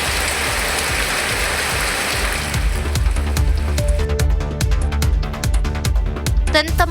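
Light drizzle falls in the Rasipuram area of Tamil Nadu as a soft, steady hiss of rain that continues beneath a voice once he begins talking partway through.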